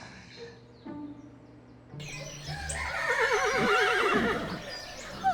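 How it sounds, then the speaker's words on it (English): Horses neigh and whinny in a stable during morning feeding time, their loud whinnies rising and falling in the second half over a faint clip-clop of hooves and background rustle. "I am going to feed and turn out the horses"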